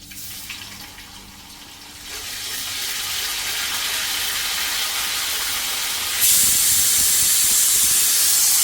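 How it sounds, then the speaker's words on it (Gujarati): A pressure cooker on the stove whistling as it vents steam: a broad, loud hiss that swells after a couple of seconds and jumps sharper and brighter near the end, steady and continuous. "ને કુકર અહીંયા સીટીઓ પર સીટીઓ મારે છે."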